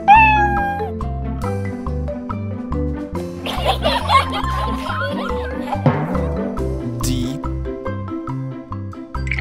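A cartoon cat gives several meows over a bouncy children's phonics tune, with playful laughter-like vocal sounds in the middle of the music.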